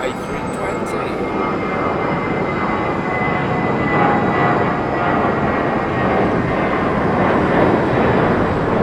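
A British Airways Airbus A320 jet at London Heathrow, a steady loud engine roar with a faint whine on top, continuous throughout and without talk.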